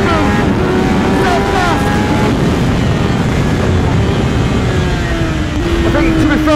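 A 2021 Kawasaki ZX-10R sportbike's engine drones steadily while riding, heavily buried under loud wind roar with rising and falling engine tones throughout.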